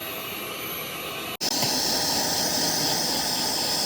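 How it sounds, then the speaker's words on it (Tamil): An electric beater whirs steadily while mixing cake batter for a black forest cake, a constant close hiss-like motor drone that briefly cuts out and restarts slightly louder. "நான் எலக்ட்ரிக் பீட்டரை வச்சு நான் இதை பீட் பண்ண போகிறேன்."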